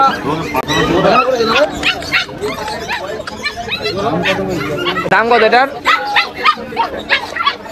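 Dogs and puppies at a crowded Sunday dog market yip and bark in short, overlapping bursts close by, with whimpers mixed in, while people bargain and chatter throughout.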